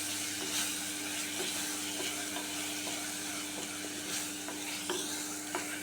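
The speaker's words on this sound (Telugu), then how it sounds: "ఎండు రొయ్యలు ఇందులోనే వేసి ఒక 10 నిమిషాలు ఫ్రై చేసుకున్నామండి." Dried prawns with a little turmeric fry in a clay pot, giving a continuous soft hiss and sizzle with faint occasional stirring scrapes, close and low in level, no voices.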